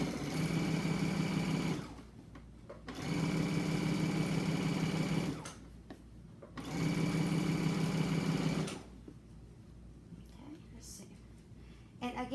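A sewing machine runs a straight stitch on a craft bag in three steady, humming bursts of a few seconds each, separated by short pauses, close and clear with a quiet room between runs.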